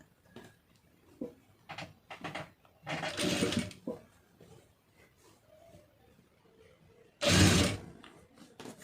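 A sewing machine stitches a half-inch seam on a lined blouse in two short, loud bursts of whirring, with quieter handling noises and rustling between them.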